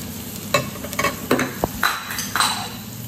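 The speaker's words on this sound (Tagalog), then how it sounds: "Lutuin natin yung garlic" Garlic frying in a pan gives a low, steady sizzle. Clinks and scrapes of a utensil stirring against the pan's metal come several times in an uneven rhythm, up close and without talk.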